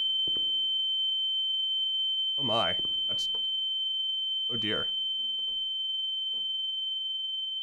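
A steady, piercing high-pitched ear-ringing tone from The Town of Light video game holds for the whole stretch, loud and unbroken, while someone speaks briefly over it.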